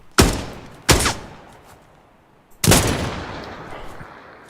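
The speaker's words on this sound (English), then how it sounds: "Wow, firing the sniper" Sniper rifle shots in the retro tactical shooter Dagger Directive: three sharp, loud cracks, the first two close together and the third after a pause, each with a decaying echo tail.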